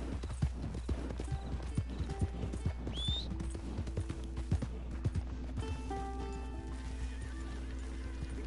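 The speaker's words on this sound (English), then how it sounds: "Stupid horse. I can't believe my second horse came." Horse hooves clip-clop at a steady walking rhythm in Red Dead Redemption 2, with a horse neighing and whinnying partway through over an ambient game backdrop.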